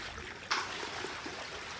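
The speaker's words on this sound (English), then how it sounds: "first of all, I'm discharging the water from wherever we are going to do the sorting." Water is discharged from a catfish pond on a fish farm as a soft, steady trickling and gurgling flow with a brief splash near the start, faint and continuous throughout.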